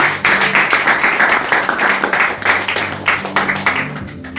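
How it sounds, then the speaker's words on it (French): A congregation claps together in a dense, steady run of hand claps at a French-language church service, loud and close, lasting the whole stretch with no talking over it. "Acclamons encore la parole du Seigneur."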